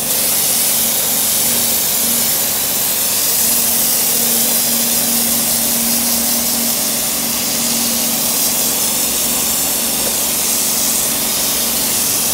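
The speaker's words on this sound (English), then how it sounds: "You need to spray minimum 2 mm thickness" A loud, continuous hiss of a sprayer applying Jota Armour protective coating, steady and unbroken for the whole stretch with a low mechanical hum underneath.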